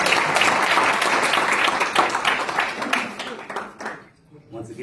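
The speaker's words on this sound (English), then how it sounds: "Let's give another round of applause for well," An audience at an international conference applauds, dense and steady for about three seconds before thinning into scattered claps and fading out, with voices underneath.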